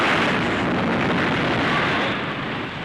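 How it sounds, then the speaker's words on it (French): Crate of grenades exploding: a dense, sustained roar of broadband noise filling the whole moment, loud and rumbling without distinct separate blasts. "j'ai entendu comme le bruit d'une explosion"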